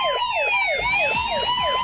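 An ambulance siren wails loud and close in a steady, rapidly repeating up-and-down pattern, with no talking over it.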